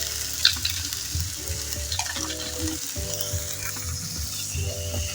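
Washed rice added to a hot pot for a one-pot meal, with a continuous loud sizzle and scraping stir strokes over a low, steady hum of the stove.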